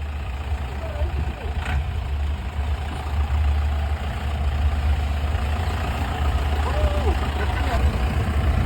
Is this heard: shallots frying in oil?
no